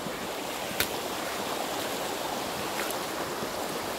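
A river flows in a steady, close broadband rush of water with no voices, broken only by a few faint splashes or knocks.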